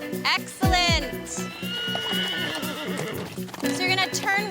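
A feisty horse in an equestrian training arena lets out a loud whinny, and its hooves clip-clop around it. People talk throughout, with instructors and riders speaking over the animal.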